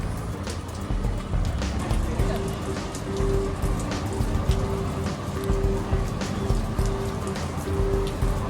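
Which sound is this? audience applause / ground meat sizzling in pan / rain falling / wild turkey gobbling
rain falling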